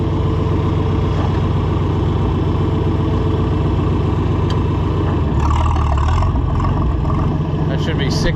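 A John Deere 4020 gas tractor engine runs steadily up close, a loud continuous low rumble that shifts slightly in tone partway through.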